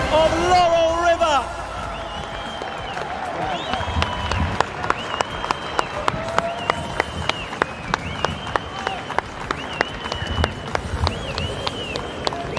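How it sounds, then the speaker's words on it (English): A racecourse crowd at Meydan, Dubai, during the 2024 Dubai World Cup horse racing meeting, applauding and cheering the winning connections: dense, steady applause throughout, with sharp tonal blips rising over the clapping. "please a round of applause, a cheer, huge appreciation, connections of Laurel River"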